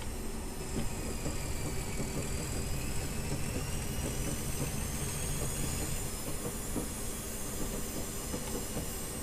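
A locomotive rolls along the rails in Train Simulator 2021 on the West Highland Line, a continuous close rumble with faint clicking wheels and thin whining tones drifting above, no voices.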